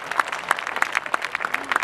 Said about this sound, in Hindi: एक बार ताली बजाकर फिर मैं आपको बताता हूं।